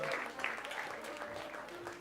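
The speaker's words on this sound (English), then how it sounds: "Please, a big clap for Camille." Audience clapping during an orientation concert at Berklee, a brief, fairly faint patter of applause with voices mixed in.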